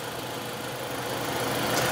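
A car engine idles steadily with the air conditioning running during an A/C repair, a continuous even hum with a faint mechanical knock, fairly close and alone with no talking.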